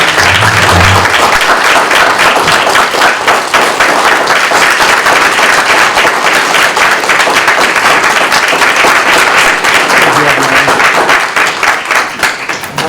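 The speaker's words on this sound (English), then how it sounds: "So if everybody could give him a round of applause." Sustained, loud applause from a school board meeting audience fills the room continuously for about thirteen seconds, dense clapping with no pauses, tapering slightly at the very end.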